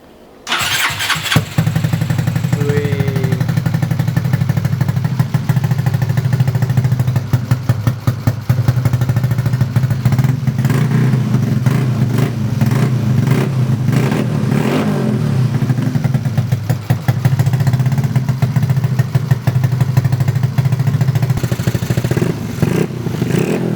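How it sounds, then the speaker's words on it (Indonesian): A Yamaha Xeon GT 125 scooter engine starts up close by after a big service, then runs loud and steady with clattering idle and repeated revs that continue unbroken to the end, with no talking. "sekarang waktunya kita untuk cek sound ini dan tes nyala"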